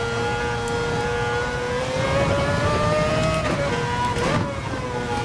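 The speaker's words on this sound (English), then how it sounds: "These cars feel special. The noise is special." A race car engine in Gran Turismo at Spa, wet conditions, holds a loud steady high-revving whine that climbs gradually, with gear changes breaking the tone near the end and no talk.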